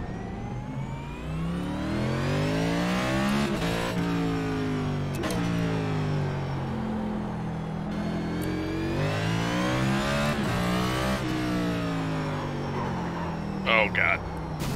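A NASCAR race car engine in a video game, set at the Los Angeles Memorial Coliseum, rises and falls steadily through repeated revs and gear changes while a person talks over it.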